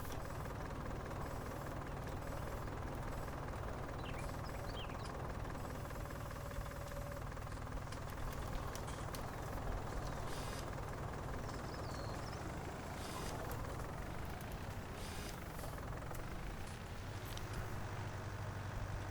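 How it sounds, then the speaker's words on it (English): The big tractor's engine in Farming Simulator 19 drones steadily and loud throughout, a constant low rumbling hum with no talk over it. "This is the biggest tractor we've got on the job at the minute."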